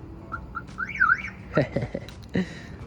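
A car lock chirp: a warbling electronic chirp sweeps up and down, followed by a few quick clicks and another short beep, fairly close.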